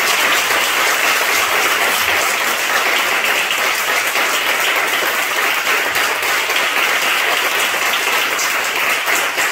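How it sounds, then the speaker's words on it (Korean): Steady, dense applause from a church congregation at a Sunday rural worship service, many hands clapping continuously and loudly throughout with no talking over it. "여러분 박수 많이 쳐주세요."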